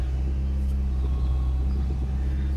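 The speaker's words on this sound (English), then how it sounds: "Hoping that idle's going to come down." A car engine idles steadily in an older secondhand car with a high idle, a continuous low rumble running unbroken and fairly close.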